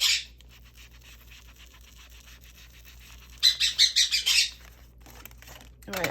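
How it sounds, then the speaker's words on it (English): Pet birds chirp in a home craft room, giving a short burst of rapid chirps in the middle of an otherwise quiet stretch, with faint scratching and fluttering around it. "I can't get rid of my birds."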